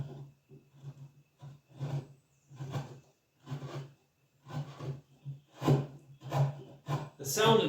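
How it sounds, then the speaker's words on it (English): A hand chisel pares poplar wood while a folding shutter is hinged by hand, making a series of close, scraping strokes in irregular bursts with short silent gaps between them. "the sound of the chisel dictates how sharp it is when it's cut cleanly"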